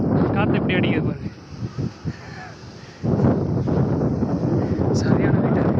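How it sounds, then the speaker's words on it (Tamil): Strong wind at a beach with caves buffets the microphone in heavy, roaring gusts, briefly easing before surging again, while a person speaks. "காற்று எப்படி அடிக்குது பாருங்க"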